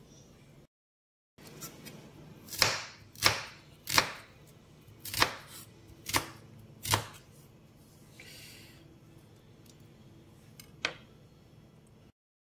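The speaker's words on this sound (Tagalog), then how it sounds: "Ayan guys, malinis na yung ating ampalaya. We're starting to slice na." A knife slicing cleaned bitter gourd (ampalaya) on a cutting board, with about six sharp, evenly spaced chops close up, then a pause and one last cut, with no speech.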